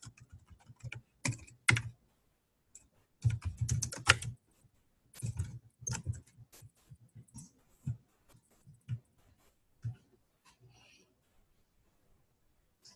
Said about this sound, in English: I'm going to type account manager number